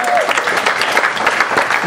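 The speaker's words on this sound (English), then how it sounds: "We're going to give him a round of applause." Studio audience applause at a late-night talk show, dense steady clapping with a brief voice or whoop near the start, loud and continuous throughout.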